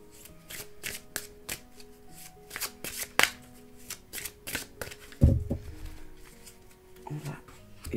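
Oracle cards shuffled by hand in a quiet room, a steady run of crisp riffling and flicking strokes with a louder thump and rustle near the end, no talking.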